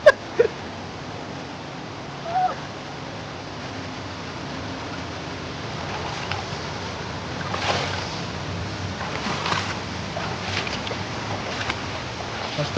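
Steady broadband rushing of water at the Brahman Dev waterfall, a continuous roar filling the scene with a few brief louder splashes and knocks on top, no talk heard.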